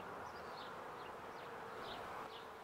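Honey bees from the upper box of a hive in early spring, worked by the Blinov method, hum in a soft continuous drone, fairly quiet and unbroken.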